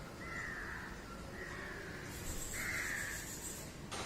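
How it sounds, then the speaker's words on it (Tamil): Crows cawing outdoors in the morning, with several drawn-out harsh calls in sequence, moderately distant over a constant background rumble. "காகங்கள் கரைகின்றன"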